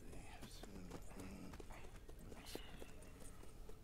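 Horse hooves clip-clopping in the Red Dead Redemption video game, quiet irregular hoofbeats with a brief whinny, mixed with low background game sound.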